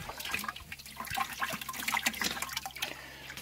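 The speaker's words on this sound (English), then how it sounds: "Hose it all out really well." A water hose rinses gravel out of a gold prospecting rocker box set inside a black box, making a steady, soft splashing and trickling rush throughout.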